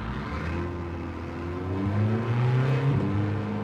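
A car engine in Gran Turismo 7, just shifted into first gear, revs steadily with rising harmonic tones that climb and swell louder toward the end, heard alone without talk.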